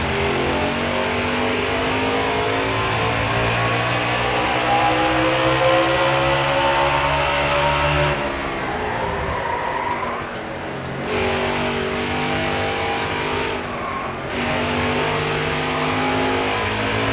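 Race car engines roar continuously at the New Hampshire track in NASCAR Heat 4, a loud sustained drone with pitch shifting as cars accelerate and pass, brief dips in intensity partway through.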